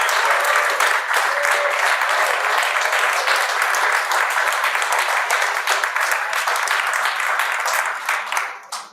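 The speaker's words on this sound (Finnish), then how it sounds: "Eiköhän anneta vielä kerran yhdet isot aplodit Teemulle." Loud, dense applause from a large audience at a Finnish presidential campaign opening event for writer Teemu Keskisarja, continuous and even for several seconds before fading out at the close.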